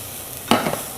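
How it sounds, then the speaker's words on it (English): Onion and garlic sizzle in hot oil in a pan for a hake, chorizo and chickpea stew, a steady close hiss that swells into a brief louder crackling burst midway, with no voices. "then we go in with our onion and our garlic straight away. That should be sizzling."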